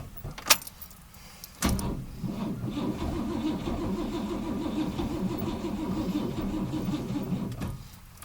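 A 1956 Cadillac Sedan DeVille with a likely empty carburetor cranking as it tries to start, opening with a couple of key and click sounds, then several seconds of rhythmic starter churning that stops abruptly, fairly quiet and close, with no talking.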